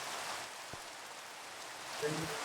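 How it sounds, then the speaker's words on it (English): Steady rain falls in the Minecraft video game as an even, soft, continuous hiss of drops, with a couple of faint low thumps and no speech. "The rain is really nice."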